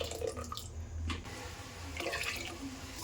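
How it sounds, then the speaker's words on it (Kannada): Water splashes steadily into a cooking pot holding melted jaggery, ground coconut, roasted rice and cardamom, a close, continuous gushing pour lasting a few seconds with no talking. "ನೀರು ಹಾಕಿ"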